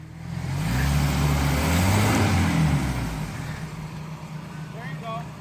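An off-road vehicle's engine runs during an off-roading outing, rumbling loudly as it revs up, then settling into a steadier, lower drone, with people talking over it.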